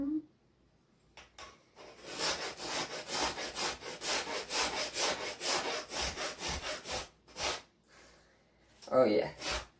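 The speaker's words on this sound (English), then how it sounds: "I've got to get me a new little rasp." A hand rasp files a small wooden mini axe handle in a steady run of close, loud scraping strokes, then goes quiet for a moment before a final burst near the end.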